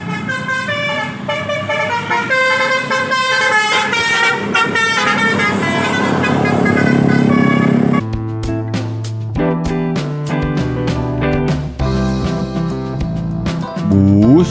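Indonesian telolet bus horns blaring melodic multi-tone tunes, loud and close, several musical horn sequences playing back to back with a switch to a different horn pattern partway through.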